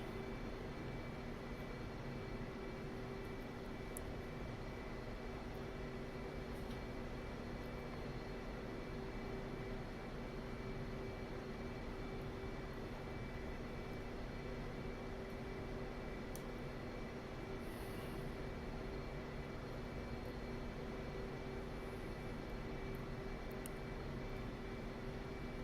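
A Blue Angels jet's engine hums and adds power in DCS World, a steady, fairly faint whining drone that holds throughout with little change.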